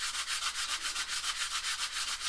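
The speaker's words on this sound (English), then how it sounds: "we have the draw plate, and so what I'm going to do, I'm just going to sand that the same way" A Seydel diatonic harmonica draw plate is flat-sanded with a steady, rhythmic back-and-forth rasp of even strokes, close and alone with no voices.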